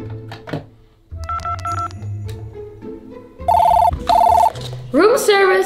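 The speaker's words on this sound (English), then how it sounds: "Phone!" A telephone rings in a kids' hotel playroom with bright electronic bursts, two strong rings after a mix of toy noise and children's voices, fairly loud and close.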